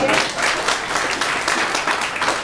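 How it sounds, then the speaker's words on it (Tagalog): An audience at a comedy show breaks into loud, sustained applause, many hands clapping in a dense, even wash that stays steady throughout. "Ang dali, palakpak naman."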